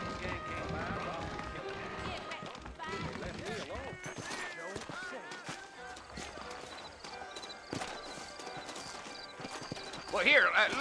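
Horse hooves gallop in a steady clip-clop in Red Dead Redemption, beneath continuous music and talking, with a horse whinny near the end.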